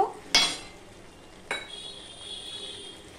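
Chicken sautéed in a little oil, with two distinct scrapes of a spatula stirring the pan, followed by a faint sizzle that carries on quietly with nobody talking.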